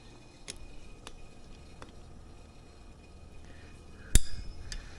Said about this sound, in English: this is the trick for getting stubborn carb screws out. An old set of locking snot-nose locking pliers.